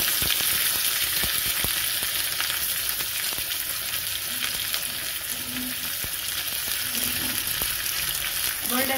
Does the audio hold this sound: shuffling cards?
no